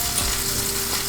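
Kentucky Bourbon Barrel Ale hissing and sizzling as it hits a hot pot, a short steady crackle with faint clicking close by.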